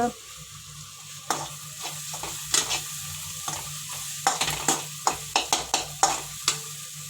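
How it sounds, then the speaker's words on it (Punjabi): Spice masala for stuffed bitter gourd roasting in a pan, a soft low sizzle under a quick, irregular series of sharp spatula clicks and taps against the pan, quiet and close. "ਅਜੇ ਮਸਾਲੇ ਨੂੰ ਚੰਗੀ ਤਰ੍ਹਾਂ ਭੁੰਨ ਲੈਣਾ ਵਾ"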